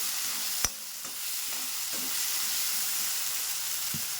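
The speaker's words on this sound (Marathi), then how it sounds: "अद्रक आणि लसूण चांगलं फ्राय झालेला आहे त्याच्यामध्ये आपण टाकून देऊ टोमॅटो" Tomatoes added to ginger and garlic frying in a pan for masala egg bhurji, a steady close hiss and sizzle with one sharp clack of a utensil and soft stirring knocks throughout.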